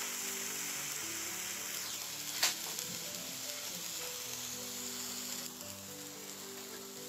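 A vegetable omelette sizzles steadily in a pan over a gas stove, a continuous hissing fry with a brief clatter of stirring midway and no talking.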